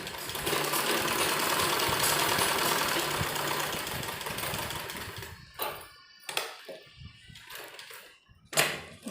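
Sewing machine stitching along folded fabric edges of a bell sleeve, a loud steady motor whir running continuously for several seconds, then stopping, followed by a few short bursts of stitching and handling noise.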